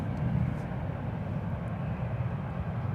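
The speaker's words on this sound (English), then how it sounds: "Departing off one left, quite the steep climb there." A Delta Airlines Airbus A220-300 climbing steeply after takeoff from runway one left at San Francisco International, producing a steady, broad jet roar that holds at an even, moderately distant level throughout.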